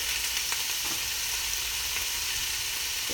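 Chopped leeks sizzling in a hot frying pan for a Thai green tofu curry, a steady loud hiss and crackle of oil throughout, close up and with no talking.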